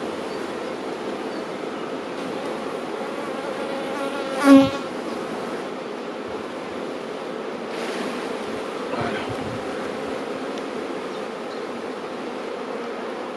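Honeybees buzz in a dense, continuous hum at an open beehive during colony work, with one sharp close knock partway through and a faint rustle later, no voices.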